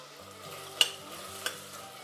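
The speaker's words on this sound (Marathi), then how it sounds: "आपण त्याच्यात चुको खोबरं किसलेलं ना ते घालणार होतो म्हणजे तेलामध्ये चांगलं हे भाजलं जाईल" Grated dried coconut roasts in oil as it is stirred in a pan, a soft, steady frying hiss broken by two sharp spatula scrapes against the pan, close and without voices.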